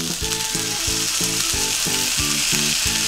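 Eggplant goes into hot oil and fries with a loud, steady sizzle for a nasu miso dish, with a rhythmic ticking pattern running underneath.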